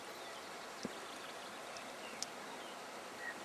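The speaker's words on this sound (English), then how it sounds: "hear the river" A river flows in a steady, broadband wash close by, constant and unbroken, with a couple of faint sharp clicks and a distant bird-like note over the water noise; no one speaks.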